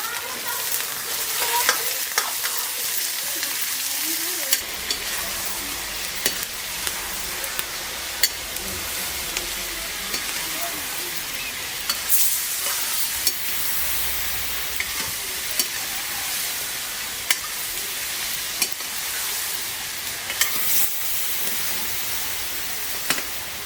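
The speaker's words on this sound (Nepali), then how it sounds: "र मासुलाई मजाले एकछिनसम्म" Mutton sizzles steadily in a hot pan with spices added, with frequent scraping and clacking of a spoon stirring it throughout; no voices.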